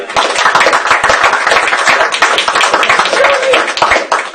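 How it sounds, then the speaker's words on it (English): A loud, close round of audience applause: dense, continuous clapping from many hands, steady for the whole stretch with a few cheers mixed in. "One more round of applause"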